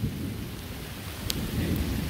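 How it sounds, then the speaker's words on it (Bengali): Heavy rain beginning to pour over a village in a sudden unseasonal storm, a dense steady hiss and rumble filling the whole stretch, close and constant with a brief sharp patter midway. "তো ভালো জোরে বৃষ্টি নামছে"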